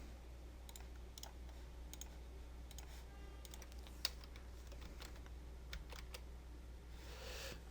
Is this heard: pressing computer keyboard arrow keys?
yes